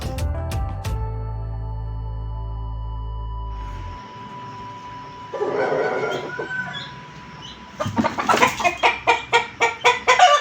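A hen clucks in a quick rhythmic series near the end, after a sustained tone and some rustling movement.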